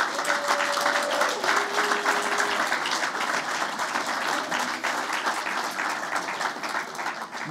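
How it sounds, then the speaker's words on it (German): Sustained applause from a large audience at a regional party congress in Mecklenburg-Vorpommern, a dense, steady wash of clapping that holds at an even loudness throughout. "Applaus."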